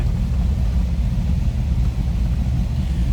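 A 1962 Chevrolet Impala two-door hardtop with a 409 V8 engine runs steadily, a deep, even low-pitched rumble throughout with no other sounds.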